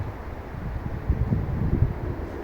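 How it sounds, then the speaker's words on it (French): Low wind gusting through trees on an outdoor estate, a soft steady rush with faint rustling that swells slightly midway, no voices. "Il y a un petit vent particulier."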